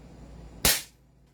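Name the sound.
airsoft M4A1 carbine firing over chronograph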